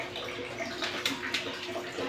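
Running water from a tap splashing into a sink as dishes are washed after breakfast, a steady hiss with a few brief clinks and splashes, fairly quiet and without talk.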